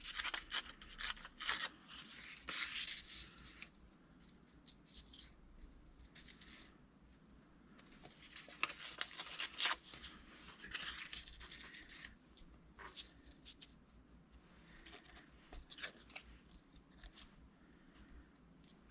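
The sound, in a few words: ripping strips by hand for nature journal craft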